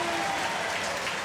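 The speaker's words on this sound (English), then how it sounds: "As the fans get up and cheer" Hockey fans at a college game between RPI and Union cheer and clap in a brief, steady crowd roar filling the arena.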